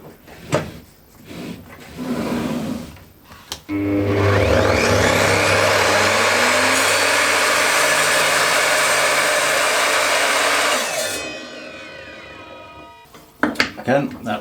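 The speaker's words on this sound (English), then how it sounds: "Let's try a mitre cut." An Evolution R255 sliding mitre saw makes a mitre cut in wood, its motor spinning up loud and steady, blade cutting for several seconds, then winding down, with brief handling clatter and speech before and after.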